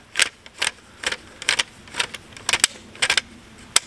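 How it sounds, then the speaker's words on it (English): Gopherhawk mole trap spring being wound, giving about a dozen sharp, close clicks in an uneven rhythm over a quiet background. "You'll hear a clicking sound when it gets over the end."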